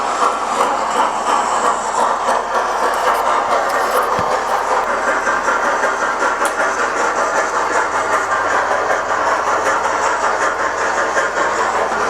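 Model P2 and Stanier Black 5 locomotives run together on a model railway track, producing a loud, steady whirring motor hum with a constant rolling rattle of wheels and no break throughout.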